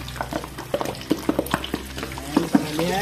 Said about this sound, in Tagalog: i-fried na natin yung ating pork belly